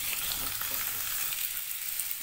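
Boiled jackfruit pieces fry in a pan over low flame, giving a soft, even, continuous sizzle with faint crackles and no talk.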